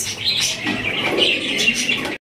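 A pair of black magpie pouter pigeons gives soft cooing and chirpy calls, close and continuous for a couple of seconds, with no voices over them.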